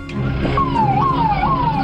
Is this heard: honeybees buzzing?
no